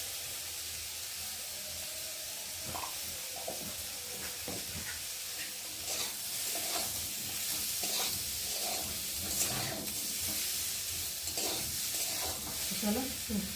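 Potatoes fry in a pan with turmeric, giving a continuous close sizzle broken by repeated scraping stirs and clicks of a utensil over roughly fourteen seconds, with no talk.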